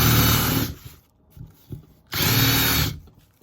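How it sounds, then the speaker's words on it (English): A power drill bores into a piece of wood braced on a workbench, two loud whirring bursts separated by a short pause with faint knocks. "You put it down on something and you drill"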